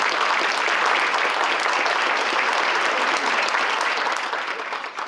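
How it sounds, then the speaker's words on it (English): A luncheon audience at a congressional business event applauds steadily, a dense close round of clapping that holds full strength before tapering slightly at the end. "So can we have a round of applause for both of you?"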